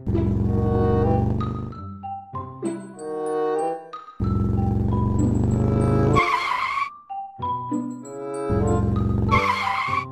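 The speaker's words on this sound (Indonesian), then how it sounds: "kencang banget naik motor ya" A motorbike ridden fast in a loud comic-style engine sound, with revving bursts that rise and cut off in repeated passes, near and with no talk.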